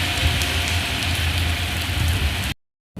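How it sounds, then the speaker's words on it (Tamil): Steady rain pours down in a dense, even hiss with a low drumming underneath, loud and close, then cuts out abruptly into silence before briefly resuming. "மழை"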